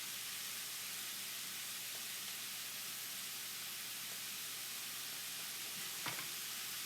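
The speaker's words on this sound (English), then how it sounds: "And once you're hearing it sizzle," Pork sizzles in a hot pan, a soft, even hiss that carries on steadily and fairly faintly, with a small clink near the end and no one talking.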